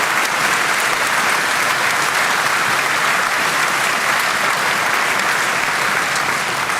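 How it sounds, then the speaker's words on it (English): Steady, dense audience applause at a Reform UK local election tour rally in Basingstoke, loud and sustained throughout with no gaps and no voices on top. "can I get a round of applause for Charlotte and George, please?"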